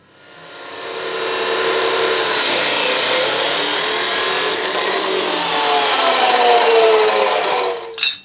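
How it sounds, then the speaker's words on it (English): Power tool cutting metal bar stock into legs for a fire pit grate, a loud continuous grinding whine that ramps up, holds steady for several seconds and ends with a brief clunk. "So I'm going to cut 3 more legs like this."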